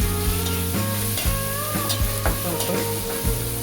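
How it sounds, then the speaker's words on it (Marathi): Green chili thecha, turmeric and garlic sautéed briefly in a pan for Maharashtrian baingan bharta, with a steady close sizzle and repeated clinking, scraping strokes of a spoon, no voices. "तो आपण 1 सेकंदभर परतून घेऊया।"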